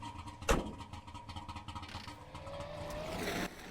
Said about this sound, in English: I do love how a two-stroke sounds.